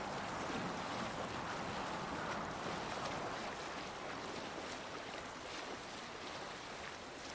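A boat moving along a river in Assassin's Creed Valhalla, with a steady wash of water and wind noise rolling continuously at an even level, no voices.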